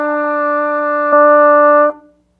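Beginner trumpet exercise number 5: a single sustained brass note held for about two seconds, swelling slightly louder midway before cutting off cleanly, solo and close.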